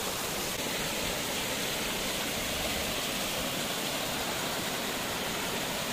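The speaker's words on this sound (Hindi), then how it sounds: "खूबसूरत झरना।" Steady, loud white rush of a mountain waterfall near the Khaliya Top trek in Uttarakhand near Munsiyari, constant and close throughout with no voices over it.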